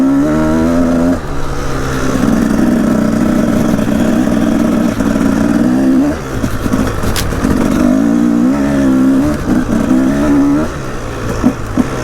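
A Husaberg TE 300 two-stroke dirt bike engine in snow drones loud and close, revving in long sustained pulls. Brief dips between revs show the bike struggling for rear-wheel traction.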